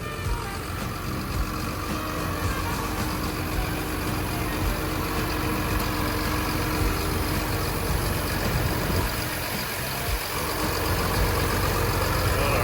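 A Caterpillar 320D2 20-ton excavator's diesel engine idles steadily nearby, a constant low rumble with a slight dip partway through before resuming.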